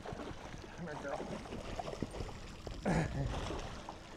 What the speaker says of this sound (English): When they sound like they're flushing the toilet at the side of the boat, you know it's a good one